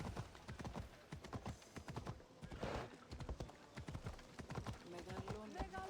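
Horse hooves clip-clop at a steady trot through a town in Assassin's Creed Odyssey, a continuous run of close, crisp hoofbeats with a busy layer of other game sound behind them.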